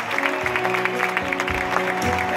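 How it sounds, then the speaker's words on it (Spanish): Steady applause from a crowd at a concert at Starlite Festival Marbella fills the space, dense clapping with a sustained musical tone ringing underneath. "¡Un fuerte aplauso para todos ellos!"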